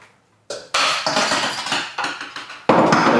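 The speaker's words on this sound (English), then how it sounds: "you should hit the hammers together" Metal hammers strike together repeatedly in a home science demonstration, giving a series of loud, ringing clanks at irregular intervals, each decaying before the next hit.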